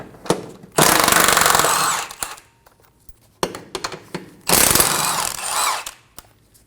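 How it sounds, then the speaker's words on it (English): A power tool drives a 19mm socket to remove the rear control arm bracket bolts on a 2008-2015 Scion xB. Two loud bursts of whirring and rattling are separated by brief clanks and a quiet gap. "Using a 19mm socket, we're going to remove these rear 2 bolts for our bracket."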